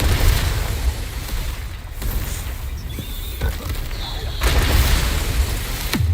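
Bombarda and Confringo blasting spells in a Harry Potter video game make booming explosions and crashes over a constant heavy low rumble, loud throughout, with a voice speaking in between.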